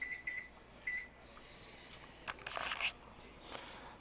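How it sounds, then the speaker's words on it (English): A kitchen timer gives several quick high beeps as it is started for steeping tea, three short chirps then one more, followed by quiet handling noises and soft clatter. "give the timer a go here."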